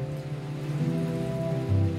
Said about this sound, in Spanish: sobre estas montañas cae una cantidad enorme de lluvia